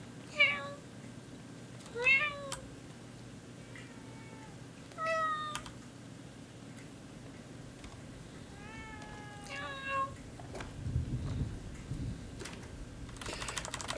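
A cat in The Evil Within 2 video game gives several separate meows, each a short rising-falling cry spaced a couple of seconds apart, over a low background hum with keyboard clicking.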